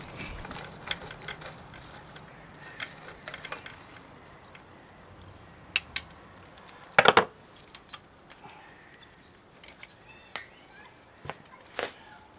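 A socket wrench ratchets against the motor mount nut on an Evinrude/Johnson outboard, giving sparse, quiet clicks and short mechanical bursts spread across the clip, with one louder cluster of rapid clicks near the middle.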